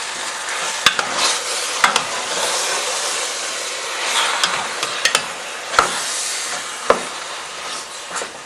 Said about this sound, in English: And then we're just going to stir this up real good